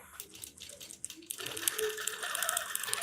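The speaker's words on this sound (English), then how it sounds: "it's just gonna stitch itself across here" An embroidery sewing machine stitches a line of horizontal stitching across a duffle bag panel, starting after a quiet pause and then running as a steady, fast mechanical chatter that stays close and fairly loud to the end.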